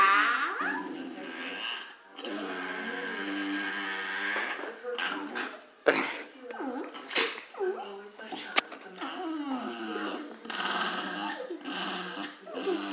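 A Staffordshire bull terrier snarls and growls up close in rising, whining bursts that continue throughout, with a few sharp yips.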